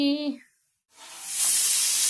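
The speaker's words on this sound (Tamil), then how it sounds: "எங்கள் குக்கருக்கு 2 விசில் விட்டால் போதும், சாப்பாடு சூப்பராக வந்துடும்." Steam hisses out loudly and steadily from a home kitchen pressure cooker as its whistle releases during meal cooking, following a brief voice and a short silence.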